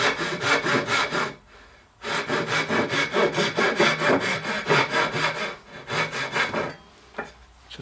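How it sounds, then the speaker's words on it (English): A handsaw cuts dovetail shoulders in wood with steady, rhythmic back-and-forth rasping strokes. The sawing is loud and close, with two short pauses between bursts and no talking. "we will cut our shoulders here with the handsaw, just following the line here to make sure we get a nice square cut"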